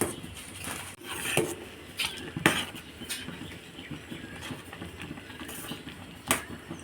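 A spoon clinks and scrapes against a pot while vermicelli is stirred with milk powder, giving irregular metallic taps and soft patter, close and fairly quiet.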